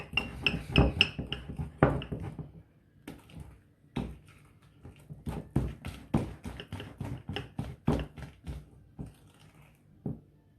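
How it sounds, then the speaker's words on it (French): Orange cake batter is whisked delicately in a bowl, giving close, rapid rhythmic clinks and taps of the whisk against the bowl in uneven bursts, with no talking. "Délicatement, vous fouettez."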